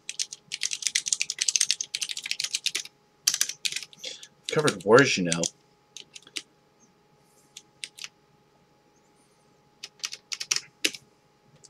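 Computer keyboard typing comes in quick, close bursts of clicks separated by pauses, with a short spoken phrase partway through and scattered keystrokes afterward.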